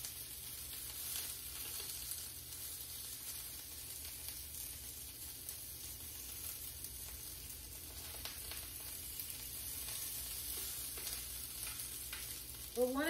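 Salmon sears in a hot pan with a soft, continuous frying sizzle and crackle, faint and steady throughout, with a brief clatter right at the end.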